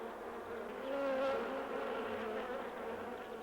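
Honey bees buzzing at the hive, a dense continuous drone of many wings, fairly close and steady, swelling slightly midway with no other sounds.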